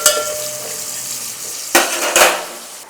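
Chopped onions and green chillies fry in a pan for homemade mutton biryani, a steady close sizzle broken by two sharp stirring scrapes of a utensil against the pan toward the end.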